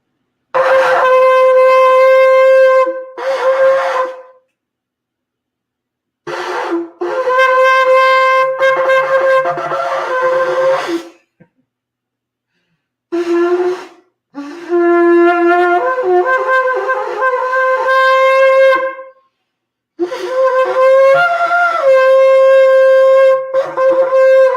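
A shofar is blown by an inexperienced player in several loud, sustained blasts with wavering, uneven pitch, separated by short silences.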